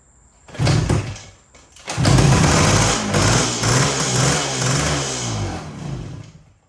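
A 1974 Honda MT250 motorcycle with a fouled, oil-covered plug and a bad crank seal sputters briefly, cuts out, then catches and runs loud and close for several seconds with an uneven, throbbing revving before dying down.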